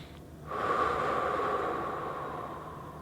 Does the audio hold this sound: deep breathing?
yes